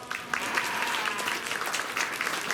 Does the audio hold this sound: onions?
no